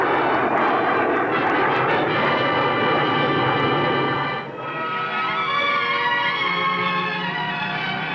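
Jet aircraft in flight, a loud continuous engine roar with a brief dip partway through, steady and close with no talk, from a 1955 radio drama.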